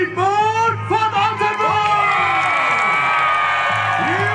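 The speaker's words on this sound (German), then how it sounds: "ich bitte euch noch einmal um einen schallenden Jubel für den heutigen Turniersieger" A crowd cheers and whoops loudly for the tournament winner at a night knights' tournament in Königstein im Taunus, with sustained shouting and bellowing voices that swell into a continuous roar.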